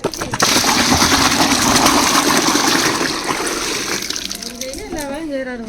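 Boiling water poured out into a vessel, a loud rushing splash that runs for several seconds and then eases into trickling as a voice starts talking over it.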